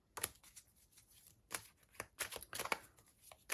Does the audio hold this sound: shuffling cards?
yes